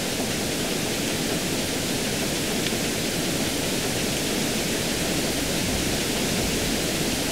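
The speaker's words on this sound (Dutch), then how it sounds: "Heavy lawaai, maar dat is met die waterval" A waterfall in the video game RollerCoaster Tycoon 3 roars as a steady, loud, unbroken wash of noise, with no talk over it.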